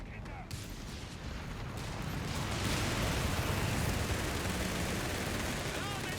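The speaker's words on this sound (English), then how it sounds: "Panzer IV opening fire." A Panzer IV tank opens fire in a Company of Heroes 3 battle, a dense, loud, sustained roar of gunfire and explosions that swells after a couple of seconds and holds steady.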